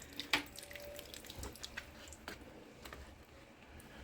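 Water poured onto droopy houseplants indoors, with a few faint drips and splashes over quiet room noise; no talking.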